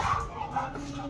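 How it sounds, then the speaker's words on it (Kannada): A fully white dog gives a short, faint bark and yip from nearby. "ಇದೇ ನಾಯಿ ಅದು"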